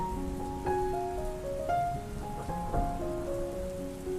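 Steady rain patters softly beneath gentle sustained musical tones, a calm ambient blend with no voices.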